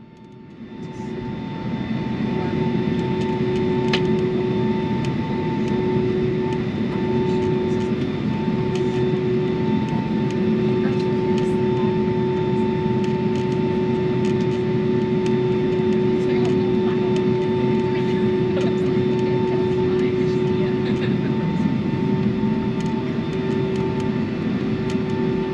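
Steady, loud cabin drone of a Delta Boeing 757-300 airliner in cruise, a continuous engine and airflow roar with a constant whine, unbroken for the whole stretch.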